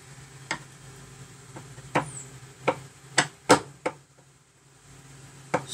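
A screwdriver loosening the screw on a kitchen cabinet door hinge makes a series of sharp, close clicks and ticks, several in quick succession followed by a pause and one more, against a quiet room.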